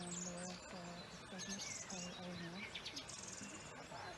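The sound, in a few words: dawn chorus birdsong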